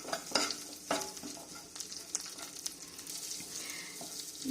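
Cumin, curry leaves and tamarind fry in a pan for tomato chutney, a soft continuous sizzle broken by repeated spatula scrapes and stirring taps close by, with no voices.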